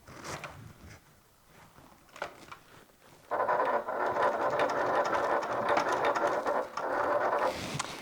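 A sewing machine runs in a steady whirring burst while top stitching a top handle bag, preceded by soft handling noises and brief clicks.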